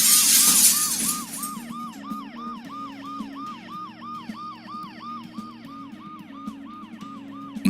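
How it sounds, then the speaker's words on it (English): A loud, rapidly wailing ambulance siren in the video game Dead Synchronicity repeats its rising-falling yelp in a steady rhythm, opening with a brief crash of breaking glass. "the ambulance's deafening siren"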